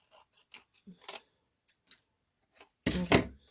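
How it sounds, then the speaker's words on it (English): Scissors snip away excess paper around a cut-out leaf, giving a few faint, spaced clicks and then two louder, closer cuts near the end. "Oh yeah, I should cut those extra parts off. Snippity snip snip."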